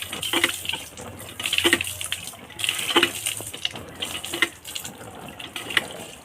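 Something is washed under a running kitchen tap, with a steady stream of water broken by repeated splashes and scrubbing bursts, close by, with no talking.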